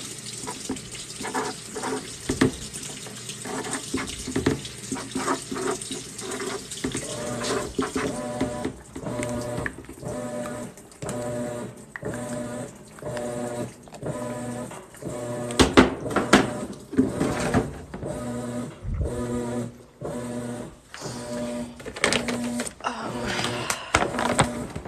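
A home washing machine on its rinse cycle, sloshing water with irregular clunks, thumps and rattles as the drum works, moderately close, with a few brief louder knocks and no speech.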